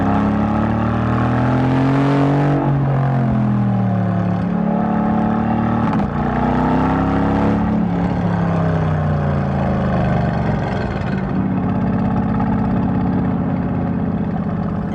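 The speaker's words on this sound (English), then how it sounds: "there's plenty of drama to be had coming out of the tailpipe, especially in this race mode, which is going to put the active exhaust in its loudest" The V8 engine of a Mercedes-AMG GT S booms through its active exhaust in race mode, loud and close, with deep rising and falling revs, throttle blips and a steady rumbling drone throughout.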